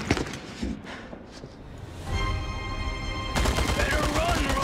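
Gunfire in the Resident Evil 4 Remake, with dense crackling volleys and booms that swell to a loud sustained barrage in the second half, layered with game music and effects.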